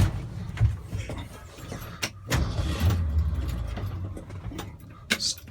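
A 1967 Ford F100 4x4 pickup with new mufflers cranks and its engine catches, settling into a low, steady rumbling idle close by, with a few clicks and key-like jingles on top.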